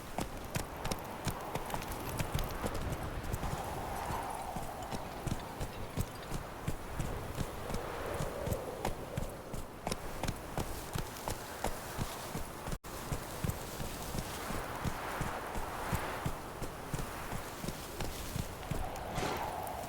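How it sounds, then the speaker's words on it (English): Hooves of the horse Roach clip-clop at a steady walking pace throughout The Witcher 3 video game, close and continuous over a soft ambient game background. "Giddy up. Whoa there, Roach."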